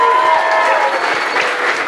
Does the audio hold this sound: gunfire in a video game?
no